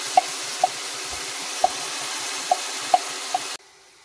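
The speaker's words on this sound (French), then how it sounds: "Laissez bien frire le yet avec la tomate concentrée." Tomato paste frying with onion and garlic in a pot for tiébou dieune makes a steady sizzle. About six light utensil taps sound against the pot at irregular intervals. Everything cuts off abruptly near the end, and no one speaks.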